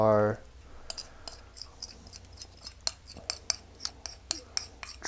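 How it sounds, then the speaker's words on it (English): Wet chocolate chunk cookie dough ingredients going into a bowl of dry ingredients, heard as a run of sharp clinks and taps of utensil against the bowl, close and fairly steady, after a brief low hum at the start. "we're going to add our wet mixture to our dry mixture"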